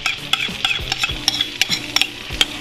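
Spice paste with butter and flour stirred in a hot pan for chicken tikka masala, with steady sizzling and repeated scraping strokes of a utensil, close and fairly loud, no voices.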